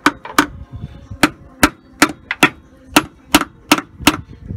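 Sharp metallic taps from a hammer striking a 1999–2004 Dodge Dakota/Durango front differential housing to break the cover loose, about a dozen close, loud knocks in an uneven rhythm.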